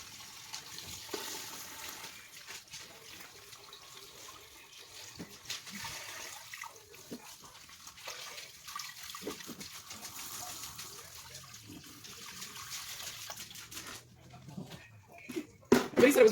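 Water pours and gushes into a small 5 gallon aquarium in a continuous rushing trickle, soft and near, with a louder splashing surge toward the end.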